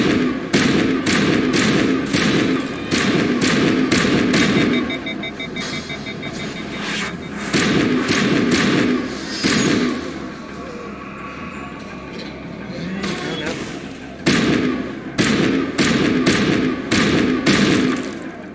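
Gunfire and grenade explosions in Mass Effect Legendary Edition combat: loud, rapid bursts of shots and heavy thuds repeat in clusters across the clip, with brief quieter gaps between volleys.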